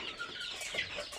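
Farm chickens cluck softly in a poultry shed, a low, faint murmur of overlapping clucks with brief higher calls, steady across the short stretch with no talking.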